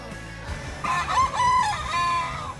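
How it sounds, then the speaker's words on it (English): A rooster crows once in a drawn-out cock-a-doodle-doo, moderately distant over faint background noise. "that rooster"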